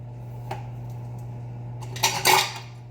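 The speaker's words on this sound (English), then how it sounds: "going to start adding my lids." Lids are set onto glass jars of homemade yogurt, with a light clink at first, then a short burst of rattling, clattering contact as several lids go on, over a steady low hum.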